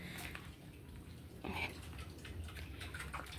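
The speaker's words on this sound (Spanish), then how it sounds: "Oh, y está cayendo agua." Water pours into a basin at an outdoor home cooking spot where corn and beef broth are being made, giving soft splashing and trickling with a few louder bursts over a low background rumble.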